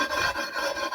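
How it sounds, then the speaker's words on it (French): A water-dipped whetstone rasping steadily along the edge of a concrete pool-terrace slab, a close, continuous gritty scraping in short strokes, with no voices. "une petite pierre à aiguiser qu'on trempe un petit peu dans l'eau comme ça"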